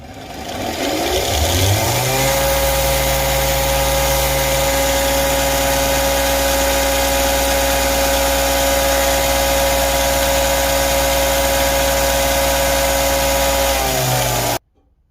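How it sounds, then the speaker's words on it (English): A grinder spins up with a rising whine, then holds a loud, steady grinding hum for several seconds before cutting off abruptly. "I'm going to take that over to the grinder and then just kind of shave that down"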